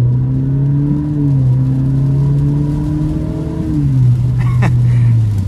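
An Alfa Romeo Giulia with a muffler delete accelerates, its engine drone rising in steady pitch before dipping and climbing again, loud and close throughout with no talk over it.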